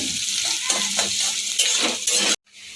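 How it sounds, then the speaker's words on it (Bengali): Onions frying in a pan for sambar dal, a loud close sizzle with repeated scraping stirs of a spoon, ending abruptly in sudden near silence. "পেঁয়াজটা একটু নরম না খাওয়া পর্যন্ত আমি একটুখানি ভাজতে থাকবো"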